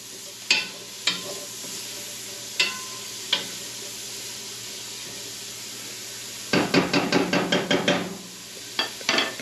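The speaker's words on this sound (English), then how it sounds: "Go ahead and just stir that around a little bit." Grated carrot sizzles steadily in hot oil in a pot for a homemade marinara sauce, while a utensil stirs it with scattered scraping knocks and a quick run of rapid clacks near the end.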